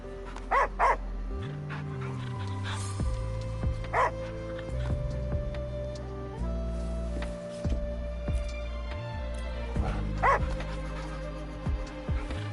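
A dog in the video game Wuthering Waves gives a few short, clear barks spaced several seconds apart over steady background music.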